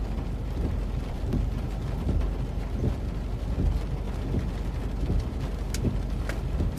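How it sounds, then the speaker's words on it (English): Heavy rain pours during a flash flood storm in Petersburg, Virginia, making a steady, dense hiss with occasional louder gusts and faint low rumbles underneath. "listen to the rain"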